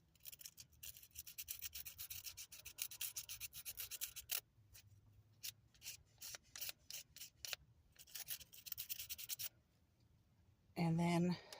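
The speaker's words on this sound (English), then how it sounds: "you could use just a simple nail file and go to the edges of your scissors" Simple nail file rubbed in quick repeated strokes along the edges of a pair of scissors, a dense run of close, scratchy rasping bursts with brief pauses between passes.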